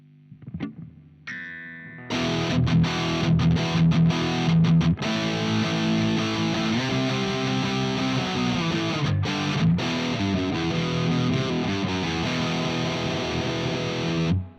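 Heavily distorted electric guitar through a Marshall JCM2000 TSL60 amp, chords ringing out loud and saturated, with brief muted gaps between strummed phrases, following a few quieter picked notes.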